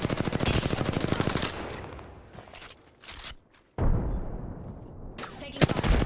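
Rapid automatic gunfire in Apex Legends rattles loudly in long bursts, broken by pauses and a quieter stretch, then resumes with more sharp shots near the end.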